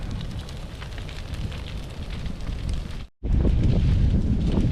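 Dry brush fire burning in picked-up wind, a loud continuous roar and crackle with gusty buffeting against the microphone, a brief dropout, then returning even louder.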